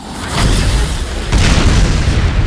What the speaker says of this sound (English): The explosion threw the omen to the ground